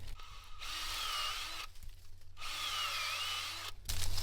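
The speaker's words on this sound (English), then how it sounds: "So as I drill this one out, you'll see" A power drill whirs in two steady bursts with a whining pitch, drilling a tap hole into a maple tree, pausing briefly between them, close and loud with no talking.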